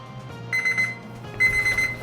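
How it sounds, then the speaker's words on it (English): While chicken and veggie skewers grill on a Weber, a kitchen timer beeps in two quick bursts of rapid high chirps, fairly faint against low background hum. "That's my timer."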